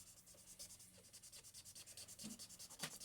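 A worn dry erase marker scratches across paper in quick, steady back-and-forth strokes while a spiderweb is drawn, close and fairly quiet, with a slightly louder squeak near the end.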